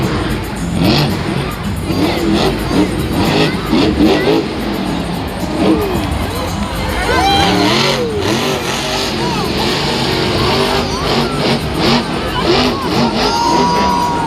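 A monster truck engine roars and revs continuously at a Monster Jam arena show in Philadelphia, loud and close, with crowd noise and possible commentary underneath.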